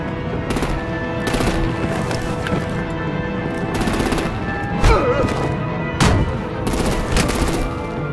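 Gunfire and artillery in Batman: The Enemy Within, a dense stream of rapid automatic shots with heavier thumping blasts near the five- and six-second marks, loud and continuous throughout with no talk.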